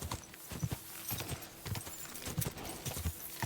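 A horse canters in Kingdom Come: Deliverance 2, its hooves drumming in a quick, repeating galloping rhythm of clip-clops, moderately close and steady across the stretch with no voices over it.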